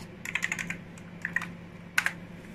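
Typing on the keyboard of a Sun 2/120 workstation done with one hand: three short bursts of close, crisp key clicks separated by pauses, with a low steady hum beneath.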